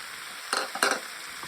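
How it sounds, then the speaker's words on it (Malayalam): Sliced onions with turmeric sautéing in a pan for chicken biryani, a soft continuous sizzle broken by a few scraping stirs of a spatula, close and moderately loud with no talking. "നന്നായിട്ട് വഴറ്റിയെടുക്കാം."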